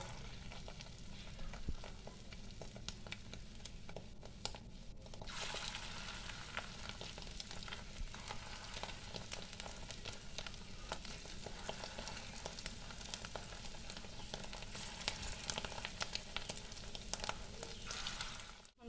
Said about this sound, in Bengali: তেল ভালো মতো গরম হয়ে গেছে এবার আমি বড়াগুলো ভেজে নেবো